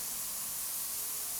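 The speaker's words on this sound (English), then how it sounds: "let's spray and hit R and see what happens" A spray paint nozzle in Spray Paint Simulator hisses continuously, a steady bright airy spray with no breaks, close and even in level, heard alone without talk.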